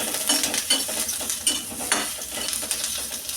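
Peanuts and green chillies frying in a spoonful of oil in a pan, a steady hiss and sizzle broken by repeated scraping and clinking strokes of a spoon stirring close up.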